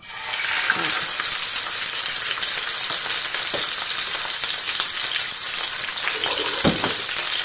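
Whole tilapia frying in hot oil, a steady loud sizzle and crackle with a few soft knocks of stirring or turning, close up with no voices.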